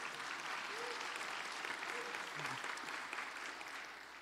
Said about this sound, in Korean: 우리 부장님한테 박수 한 번만 쳐주시면